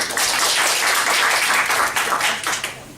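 A comedy-show audience claps for about three seconds, a dense steady patter of many hands at moderate loudness that thins a little toward the end.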